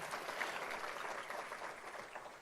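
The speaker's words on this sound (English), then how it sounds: "Can we give a round of applause to the board of directors, to their donors?" A sustained round of applause from an audience at a community gathering at Sonoma State, dense steady clapping without a break, fairly distant and even in loudness.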